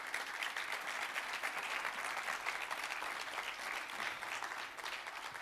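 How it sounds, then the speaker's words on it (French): Audience applause at a conference session of a web festival, a steady dense wash of many hands clapping that holds evenly throughout without pause. "On peut encore vous applaudir."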